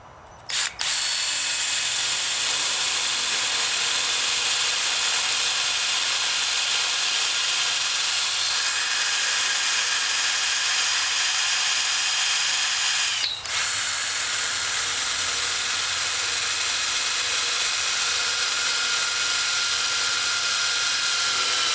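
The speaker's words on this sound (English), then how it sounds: "Now we're going to simply drill through the gate" A power drill whines steadily and loudly for about twenty seconds, with a brief pause in the middle before resuming, grinding through a metal gate.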